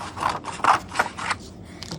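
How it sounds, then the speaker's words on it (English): Scissors snipping through a strip of paper for paper weaving, several short close cuts in an uneven rhythm, quiet and alone. "go ahead and cut another piece"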